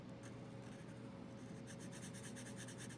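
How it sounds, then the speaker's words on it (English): Sharpie marker tracing lines on paper over a drawing of guitar and piano keys, a soft continuous scratchy rubbing that turns into quicker repeated short strokes near the end, faint and close with a low background hum. "go ahead and grab a Sharpie and start tracing all those lines"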